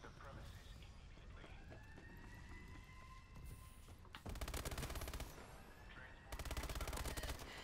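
Rapid video game gunfire in a free-for-all match, two loud bursts of fast automatic fire following quieter game sounds and a wailing siren-like tone, with a voice talking over it.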